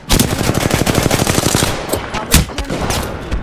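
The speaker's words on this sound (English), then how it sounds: "Opening fire." Rapid automatic gunfire in the video game Apex Legends, loud and close, with fast bursts of shots rattling in quick succession and a brief pause before more firing.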